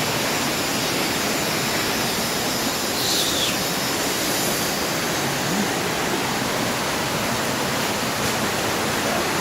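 River water rushes loudly near a waterfall in Aceh, a constant, dense roar with no break and no voices.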